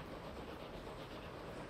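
A passenger train rolls steadily in Transport Fever 2, a dense, even rumble with faint clickety-clack of the wagons, close and continuous with no voices.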